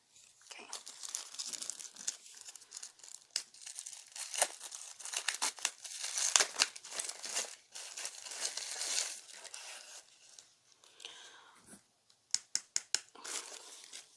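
Plastic packaging from a breast pump accessory crinkles and tears close by, in irregular bursts of rustling with a few sharp crackles near the end.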